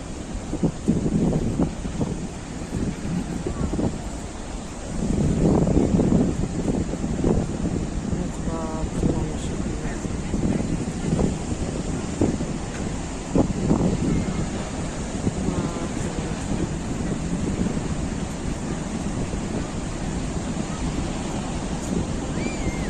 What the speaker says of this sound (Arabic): شوفوا الموجة جاية